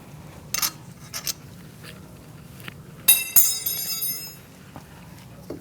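A brake caliper on a 2002-2006 Toyota Camry is lifted off its hanger and slid onto the front rotor, giving a few metallic clinks and knocks with a brighter clatter midway, over a quiet garage background.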